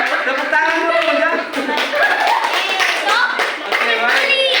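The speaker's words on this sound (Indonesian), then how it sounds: "Tepuk tangan dulu ya." A classroom of fourth-grade pupils claps in unison for a group with a correct answer, lively and close, with the patter of hands mixed with children's voices and chatter throughout.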